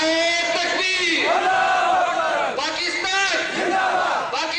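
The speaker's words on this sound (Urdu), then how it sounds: "تو میرے نعرے کا جواب دیں گے آپ لوگ، تیار ہیں؟" Large crowd at a political rally roaring a chanted reply to a slogan, loud massed voices rising in several surging waves.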